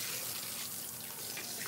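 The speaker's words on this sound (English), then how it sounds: "Alright, so we're gonna turn the water to cool." Water running steadily from a tap in a hair salon sink while hair is being rinsed, a continuous close hiss and splash with no voices.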